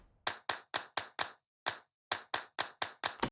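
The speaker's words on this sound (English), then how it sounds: "It's just a pattern of claps." A programmed pattern of clap samples plays in Ableton Live: eleven sharp, dry claps in a steady, mechanical rhythm with a short gap midway, close and alone with no voices.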